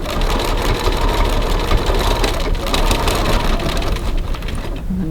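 A sewing machine stitching a cross body bag, back tacking at high stretch points, runs as a steady close mechanical whir throughout, without speech.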